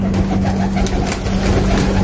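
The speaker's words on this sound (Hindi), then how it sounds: "निकला हुआ था ये कबूतर, कटक का कबूतर है" A pigeon from Cuttack coos softly up close, a low throaty murmur repeating over a steady background hum with no voices.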